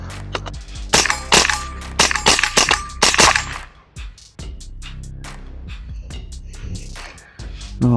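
A .22 Long Rifle round fires early in an AR-15 at an outdoor shooting range, producing a sharp crack among a burst of clicks, snaps and metallic clatter, with several quick loud transients clustered early and quieter handling noises after.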